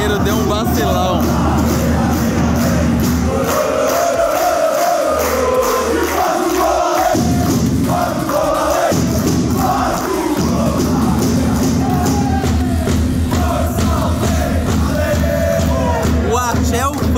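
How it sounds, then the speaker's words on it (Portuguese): A football crowd at a Portuguese third-division match in the rain yells and jeers angrily, a loud continuous roar of massed voices swelling and dipping throughout. "A torcida tá bolada ali"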